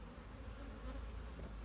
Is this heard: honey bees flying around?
yes